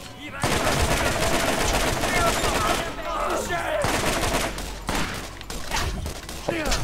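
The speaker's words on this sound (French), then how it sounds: "Cette fois on y va à la mitrailleuse." Sustained automatic machine-gun fire in the Borderlands video game, loud and continuous bursts with brief gaps, layered over other game effects.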